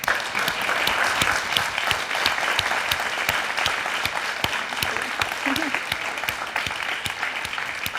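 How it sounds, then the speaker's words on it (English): Steady, dense applause from a campus audience honoring a panel on Darfur advocacy, continuous and full for several seconds with no pause. "Let's give them a round of applause."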